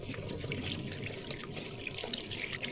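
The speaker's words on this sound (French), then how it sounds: "Donc là je rince toutes mes graines." Cold tap water runs steadily over Sweet Dumpling squash seeds being rinsed by hand in a sink, a close, continuous splashing with small drips and shifts in the flow.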